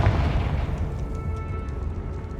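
A Confringo spell explosion in the Hogwarts Legacy video game: a loud, sustained booming blast with a rumbling low end, fading slowly into a crackling tail.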